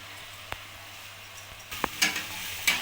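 Washed rice and lentils stirred into spices in a pan for vegetarian winter khichuri, a soft sizzle with a few scraping stir strokes and clinks near the end, no voices.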